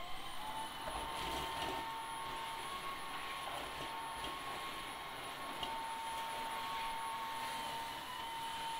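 A Tesvor R5 cordless wet-dry vacuum and mop runs steadily over a floor picking up large crumbs, a constant close motor whine with an airy suction rush and faint rattles of debris.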